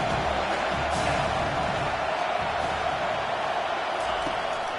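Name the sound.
stadium crowd noise in NCAA football video game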